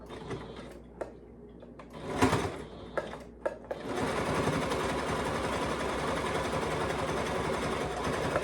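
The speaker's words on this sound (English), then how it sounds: "this time I'm going to be zigzag stitching" A sewing machine set to zigzag stitch runs in a steady, close mechanical whir for the last half of the clip, after a few brief handling clicks and knocks.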